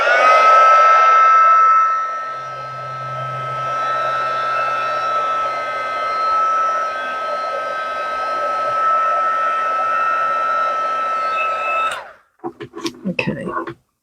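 Heat embossing tool blowing hot air over a card-making project, a steady loud whirring hiss that runs for about twelve seconds before clicking off, followed by a few brief handling knocks.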